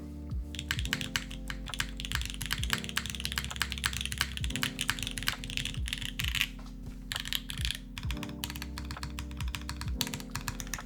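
Typing on an Aaru Divine TKL custom mechanical keyboard, a fast, continuous patter of crisp close keystrokes with occasional heavier thocks, no talking.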